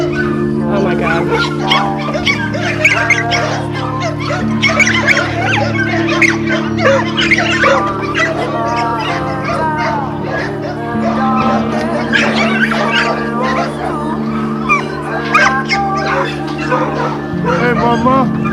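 Many dogs barking, yipping and whimpering together in a yard, a dense continuous chorus close by, with people talking over the noise throughout.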